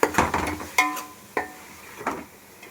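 Mint and coriander are stirred in a pan for mutton biryani, giving a series of sharp spatula clacks and scrapes against the metal over a soft, faint sizzle, close up and without talk.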